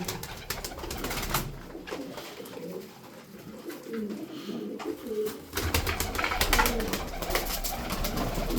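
Tumbler pigeons coo softly and repeatedly, low throaty calls layered with rustling and light clattering nearby.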